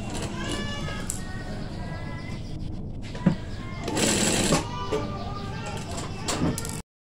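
A sewing machine stitches a hoodie in a steady, close hum with a brief louder burst midway, while someone talks over it in Indonesian.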